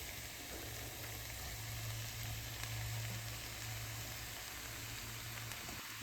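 Beetroot pieces and onion frying in oil, a faint, even, continuous sizzle with a low hum underneath and no speech.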